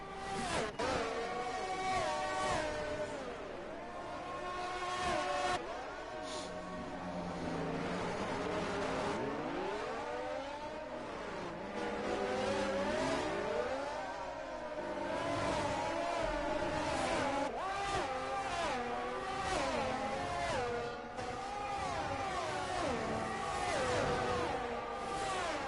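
Racing cars in a Formula-style video game at the Mexico circuit, Red Bull cars battling to overtake, with continuous loud engine whine and shifting revs from several cars throughout, no talk.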